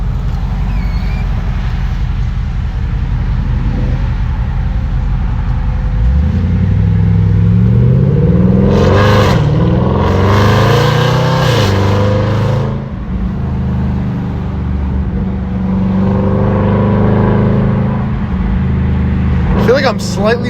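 A naturally aspirated Audi RS5 accelerates hard from inside the cabin, its engine note rising loudly through the gears and then easing to a steady cruise, with people talking over it.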